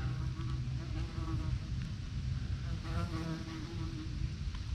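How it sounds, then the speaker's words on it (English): A bee or hornet buzzes steadily and close among hardwoods, a continuous droning hum with slight pitch wavering that lasts the whole stretch without any talk. "And we have a bee that likes us, or a hornet."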